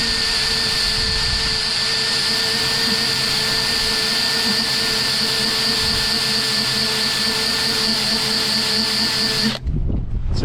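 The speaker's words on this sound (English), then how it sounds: "One is a rubber wheel to get the stickers off." A rubber eraser wheel on a power drill whirs steadily against a ute door, lifting old stickers, a loud constant high-pitched spin lasting about nine and a half seconds before the tool cuts off abruptly.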